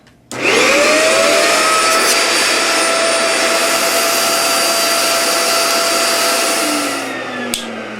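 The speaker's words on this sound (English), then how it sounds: "I've got a vacuum here. I'm just going to clean up the board as well." A vacuum cleaner starts abruptly and runs with a loud, steady high-pitched whine while cleaning an Xbox 360 circuit board, its pitch shifting slightly near the end before a brief clunk.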